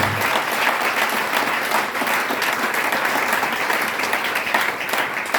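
A church congregation at a Pentecostal unification seminar breaks into loud, sustained applause for the Lord, with full, even clapping from a large crowd that never lets up.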